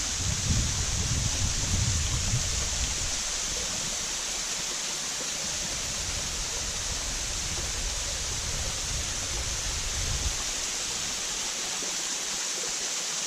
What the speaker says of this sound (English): I'm now at the base of the waterfall.